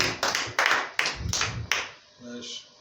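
A church congregation claps to acclaim the Lord during a sermon: a handful of sharp, uneven clap bursts over the first two seconds, then the clapping fades and a voice is heard.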